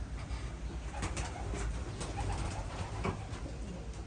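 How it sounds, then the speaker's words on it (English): Racing pigeons coo inside a loft, soft murmuring calls overlapping continuously at close range over a dense low rumble, with no talking. "It's a Frank McLaughlin pigeon."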